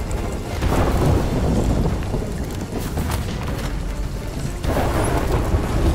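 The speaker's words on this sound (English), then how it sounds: "Calypso's literally just like hitting them with lightning for us" Thunder from Calypso's lightning strikes in the game Sea of Thieves, a heavy rolling rumble with rain-like hiss, loud and sustained with a brief dip before surging again.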